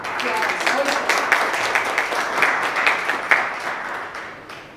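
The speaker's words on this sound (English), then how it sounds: "Give Steve a round of applause." A crowd at a Justices of the Peace commissioning ceremony in Clarendon gives a steady round of applause, with dense clapping holding for several seconds before tapering off near the end.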